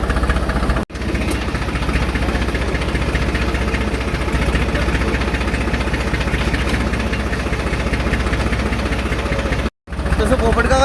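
A tractor engine idles near a poultry farm with a Ferguson trolley, a loud, steady low rumble running throughout with two brief cut-outs, while someone talks over it.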